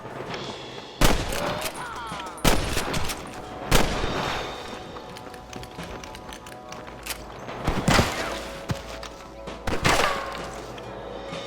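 Gunfire in the Western video game Red Dead Redemption: loud, sharp rifle and pistol shots crack out irregularly over about eleven seconds, some in quick pairs, against a steady background din of the shootout.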